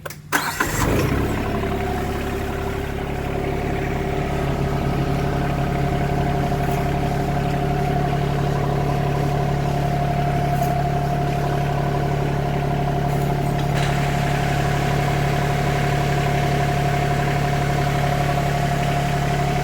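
An RK 24 backhoe's engine cranks and catches right at the start, then settles into a steady, loud, close-up diesel idle with a constant low hum and vibration that continues unchanged to the end.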